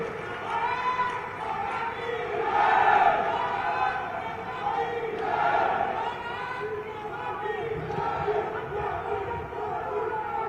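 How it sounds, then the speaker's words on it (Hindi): A large outdoor crowd at a political event welcoming Amit Shah keeps up a continuous roar of clapping, shouts and cheers that swells and eases in waves for several seconds. "तालियों की असीम गड़गड़ाहट से हम उन्हें आमंत्रित कर रहे हैं।"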